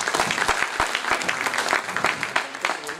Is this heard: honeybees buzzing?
no